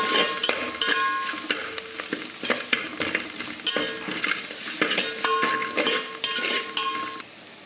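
Ground pepper, cumin, garlic and dried chilli paste sautéing in hot oil for rasam, with a steady sizzle and repeated scrapes and clinks of a metal spoon stirring against the pan, close and without talk.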